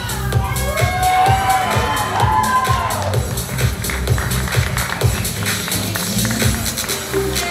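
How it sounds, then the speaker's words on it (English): Crowd cheering and whooping at a bodybuilding show's men's classic physique novice division, a loud sustained roar with shouts and whistles throughout, music playing underneath. "Round of applause, guys"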